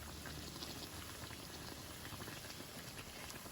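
Banana buns frying in hot oil give a steady, dense bubbling sizzle that holds evenly close by throughout, with no voices.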